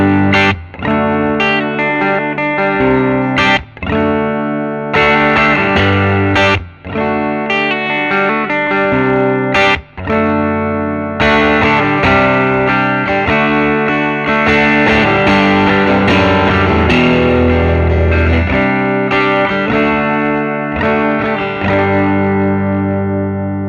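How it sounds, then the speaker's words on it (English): A hand-wired Vyse Renegade tube amp cranked to full volume gives heavy overdrive to a Fender Custom Shop Stratocaster on its bridge pickup, with loud sustained distorted chords broken by brief stops and restrikes. "I'll just push the volume all the way up and let you hear what it sounds like with the Strat"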